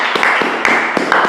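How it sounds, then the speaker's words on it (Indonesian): Brief applause for a guest on a talk show: a few sharp, close claps in an uneven rhythm, lasting only a moment. "Sekali lagi tepuk tangan buat Kang Jul."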